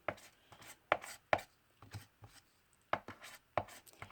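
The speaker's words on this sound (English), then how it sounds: "And then I'm just going to start to mix it in again." A palette knife scrapes and taps while mixing Color Sparks paint powder. Close, quiet strokes come in an irregular series of short, sharp scrapes separated by gaps.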